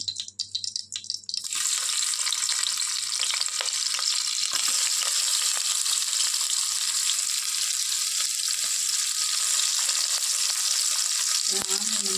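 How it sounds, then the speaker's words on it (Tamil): Two long-sliced onions dropped into hot oil in a pressure cooker, a sharp burst of sizzling that settles into a loud, continuous close frying hiss with faint stirring, no talk. "நம்ம நீளமாக நான் கட் பண்ணி வச்சுருந்த 2 வெங்காயத்தை இந்த குக்கரில் போடுறோம்"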